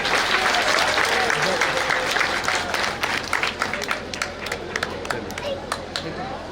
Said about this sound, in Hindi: एक बार तालियां तो और बनती है।